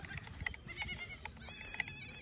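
Several goats bleat in short, separate calls at close range in an outdoor farm setting, some cries higher and sharper than others, with rustling and movement between them.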